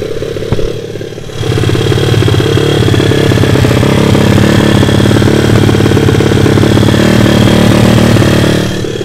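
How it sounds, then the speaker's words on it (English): SSR 150-TX pit bike with a new 160cc engine and race head idling at a slightly raised idle, a loud, close, rapid steady putter that starts after a quieter opening second and holds evenly. "I got the idle a little bit higher right now just because I'm going to heat cycle it."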